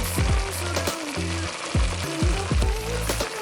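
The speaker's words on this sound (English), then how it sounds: "add your shrimp and toss all together to mix" Shrimp, broccoli and onion stir-frying in a skillet, with a steady sizzle and several sharp tossing scrapes and clatters at a fairly regular rhythm, close and loud, with no voices.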